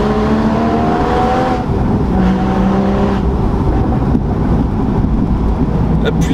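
Porsche Boxster 981 Spyder engine running with a steady, throaty drone and rising harmonic tones, loud and continuous throughout as if heard while driving, with no talking.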